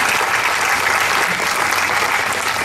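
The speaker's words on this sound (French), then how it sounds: "On peut vous applaudir." Loud, dense audience applause at an embassy's French National Day reception, sustained close clapping with no talk.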